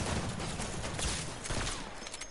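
Gunfire in the video game Fortnite, a dense continuous volley of rapid shots at moderate loudness, with no talk over it.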